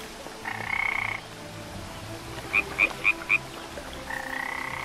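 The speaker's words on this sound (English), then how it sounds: "Oh, I just hear a frog" A frog croaks in a video game set near fast-running water. Two long croaks sit over a steady outdoor ambience, and four short, evenly spaced chirps fall between them. The sound is moderately close.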